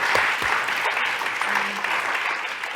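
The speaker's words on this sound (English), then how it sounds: "Does that excitement not deserve a round of applause?" An audience at an evening conversation on imagination breaks into steady applause. The clapping is moderately quiet and somewhat distant, a continuous patter with a few sharper claps near the start.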